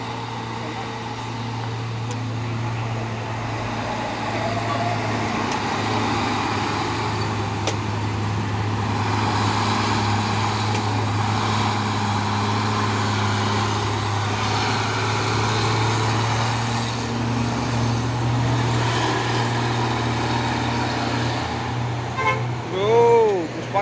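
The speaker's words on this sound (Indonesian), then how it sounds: "Terpantau ramai lagi truk-truk yang mau menanjak ini ya." Heavy trucks, including a six-by-two Tronton, grind uphill on a busy road with a steady low engine drone and rumble, traffic noise throughout and a brief horn-like toot near the end.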